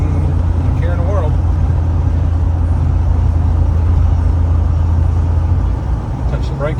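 A 2000 Jeep Wrangler Sahara four-door cruises steadily at about 50, with a constant low engine drone and road rumble filling the interior and easing slightly near the end.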